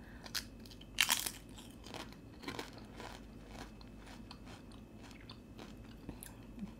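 Crunchy, dense potato chips from a Fix Price store snack being bitten and chewed close up, one loud crisp bite followed by softer scattered crunches and chewing, with no talking.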